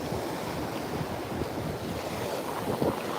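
Surf rolling onto Sanibel beach at sunset, a dense continuous wash of breaking waves mixed with gusty wind rumbling across the microphone, no voices.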